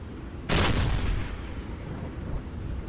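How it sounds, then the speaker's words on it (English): A submarine's flak gun in Silent Hunter III lets off a single booming shot that rings out for about half a second, then fades into low rumbling background noise. "Let's actually put somebody on the flak gun."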